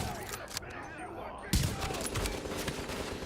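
M700 bolt-action rifle shots ring out in the shooter game Tom Clancy's The Division, with a sharp loud report amid combat noise and a player's voice talking.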